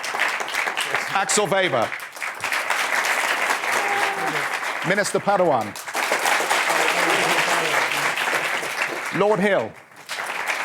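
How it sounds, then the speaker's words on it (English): An audience at a Davos 2016 panel on rebuilding Europe's financial confidence breaks into applause for the panelists, bursts of clapping running beneath a voice as he introduces each name, fading briefly between introductions. "Oh, you get some applause."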